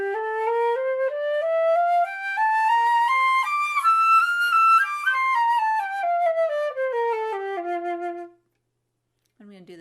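A flute runs a clear two-octave scale up and back down, each note distinct and sustained, loud and close, followed by a brief silence.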